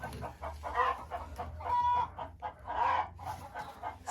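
Domestic hens cluck in their coop, close by and repeatedly, in irregular bursts of short calls with a few drawn-out squawks in between. The low hum of the coop runs underneath.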